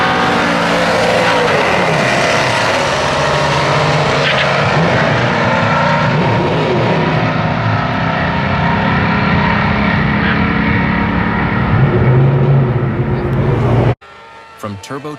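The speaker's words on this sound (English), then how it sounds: "This is a pure, classic drag race where every fraction of a second counts." Drag race cars roar off the line in a sustained, loud, broadband engine blast that holds steady for about fourteen seconds before cutting off abruptly, leaving quieter, scattered noise.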